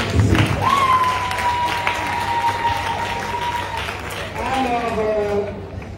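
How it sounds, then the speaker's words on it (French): Wedding guests applaud for a witness at the ceremony, sustained clapping heard under a voice speaking and a musical tone carrying through the crowd. "applaudissez pour le témoin"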